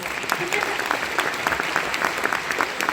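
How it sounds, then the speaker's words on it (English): Comic con panel audience applauding steadily throughout, a dense sustained wash of clapping at moderate loudness with no clear voices on top. "Give Amy a round of applause."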